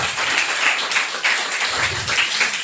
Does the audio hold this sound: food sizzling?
no